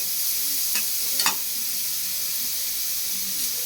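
Ginger garlic paste, green chilli, onion and mint sauté in a pot for one-pot rice, giving a steady bright sizzle with a couple of brief scraping stirs partway through.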